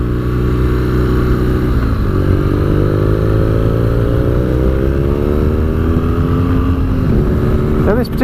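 A 2017 BMW R nineT Scrambler with a boxer engine rides along a dual carriageway, its engine droning loudly under rushing wind, with revs sliding up through gears and dropping at shifts.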